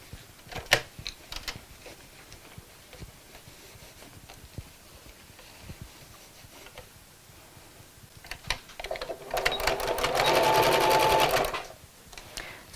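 A sewing machine stitches around the bottom of a Christmas bag fabric, running in one steady burst of about two seconds near the end after quiet handling and fabric rustle.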